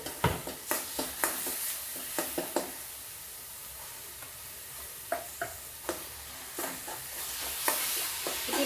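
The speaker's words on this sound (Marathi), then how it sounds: "आता हे आपलं वाटण फिरवलेलं ते मी टाकत आहे" Ground masala paste for a Goan basa fish curry stirred in a pan with a little oil, giving repeated scraping spoon strokes over a soft sizzle, alone and close.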